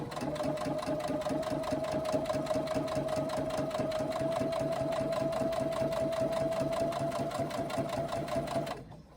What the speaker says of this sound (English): It's just doing that row of stitching along that folded edge